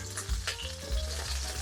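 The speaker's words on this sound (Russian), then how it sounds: "Пока выжаривается жир со шкварок" Pork cracklings sizzle and crackle in a kazan as their fat renders for beef pilaf. The frying is loud and close, with a steady hiss and faint stirring, and no voices.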